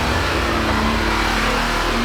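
A Jeep Gladiator engine revs hard as it climbs a steep off-road hill, a loud, steady mid-pitched roar that holds strong with no pauses throughout.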